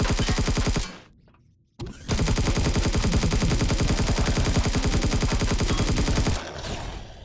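An enemy in Empyrion Galactic Survival fires rapid, loud gunshots in fast repeating bursts, broken by a brief near-silent gap before the firing resumes and then fades slightly at the end.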